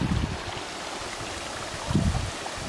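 A steady broadband rush of falling water at a waterfall in Hidden Falls Adventure Park, loud and continuous, with low gusty rumbles of wind on the microphone.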